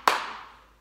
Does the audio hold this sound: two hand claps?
yes